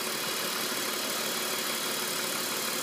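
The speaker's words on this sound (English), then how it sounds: "The BMW is alive. Let's take a look here. It's running." A BMW E46 323i engine idles steadily, heard from close by as an even, continuous hum with a hissy, broadband whir and no change in pace; no talking.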